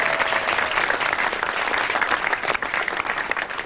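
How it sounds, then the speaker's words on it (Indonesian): Steady, dense applause from a stand-up comedy audience rolls on for a comedian, loud and continuous with no voices on top. "Tepuk tangan dulu dong buat Maison."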